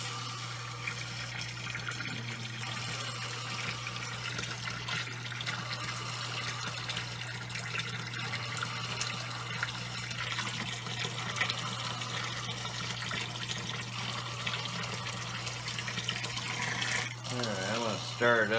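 Water being stirred by hand in an aquarium tank during algae cleaning, a steady close sloshing and trickling over a constant low hum, with a person talking intermittently.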